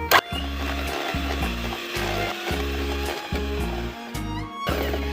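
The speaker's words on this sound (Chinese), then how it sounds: "然後我們用打蛋器的低速，就是1檔" An electric egg beater whirs on its lowest speed through egg yolk batter, a loud motorized drone that starts and stops in short repeated bursts, with rattling of the beaters against the bowl and no voices.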